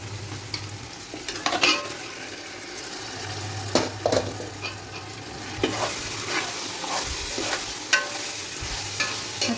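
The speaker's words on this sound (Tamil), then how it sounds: "சிக்கன் நல்லா வெங்காய தக்காளியோட மிக்ஸ் ஆகிற மாதிரி லைட்டாக வதக்கிட்டு சிக்கன் வேகட்டும்" Chicken stirred in a pan with onion, tomato and ginger-garlic paste for biryani, sizzling steadily with repeated scrapes and clinks of a spoon against the pot, close and moderately loud.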